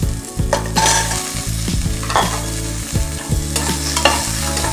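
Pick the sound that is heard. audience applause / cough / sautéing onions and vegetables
sautéing onions and vegetables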